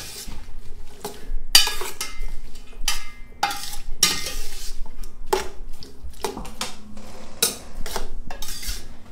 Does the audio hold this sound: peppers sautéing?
yes